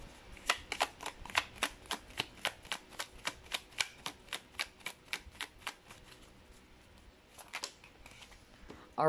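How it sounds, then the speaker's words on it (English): Tarot cards riffle and snap in a quick run of crisp, evenly spaced flicks, close and fairly quiet, followed by a brief pause and a few more rapid flutters. "let me actually shuffle again"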